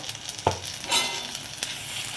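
Ginger-garlic paste frying with browned onions in a pan, stirred with a spoon: a soft steady sizzle with a couple of sharp scraping stir strokes, close and moderately quiet, no talking.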